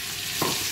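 Salsify sautés in butter in a pan, giving a brief, even hiss of sizzling with a faint soft stir partway through.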